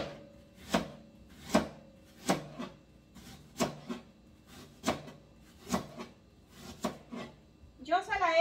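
Kitchen knife slicing onion on a cutting board while making an onion-ring salad, about ten evenly spaced thuds in a slow, steady rhythm, close and clear, with a voice briefly talking at the end.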